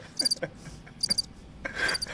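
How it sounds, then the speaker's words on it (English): Cricket chirping sound effect, with short, high, bright chirps in a few separate bursts over a quiet background, close and clear, without speech. "Fucking crickets."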